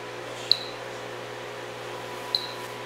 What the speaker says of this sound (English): every chirp you're hearing there is an x-ray